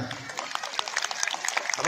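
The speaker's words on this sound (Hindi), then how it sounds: "तो मैं अनुरोध करना चाहूँगा आप सभी से कि डॉक्टर शाक्या और पेमा थ्रिंग के लिए जोरदार तालियां" Audience applause at a live memorial concert fills the space with a dense, steady patter of many hands clapping at moderate loudness, with a few sharper claps standing out.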